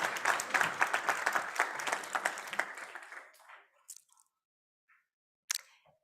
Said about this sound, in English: Let's give it a round of applause to Coolbox.